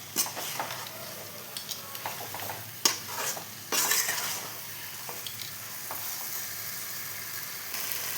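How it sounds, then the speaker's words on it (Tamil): Chicken pieces being stirred through a masala gravy in a pan for chicken curry, with close scraping and clanking of the spoon over a steady sizzle, including a couple of sharper knocks. "சிக்கன் போட்டு நல்லா மசாலாவிலே பெரட்டி விட்டாச்சு"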